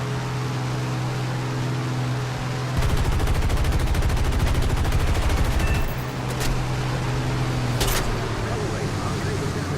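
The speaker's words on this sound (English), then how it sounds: "bombers do have turret machine guns, which is what you see firing here" Bomber turret machine guns in the combat flight game War Thunder fire a rapid, sustained burst over a steady aircraft engine drone, followed by a couple of short, sharp bursts.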